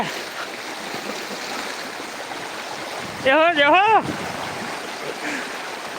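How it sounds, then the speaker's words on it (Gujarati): Rainwater floods along in a swollen flow after heavy rain, a steady, close rushing wash that fills the whole stretch. A person briefly calls out partway through. "પાણીની વહવાટી વગે"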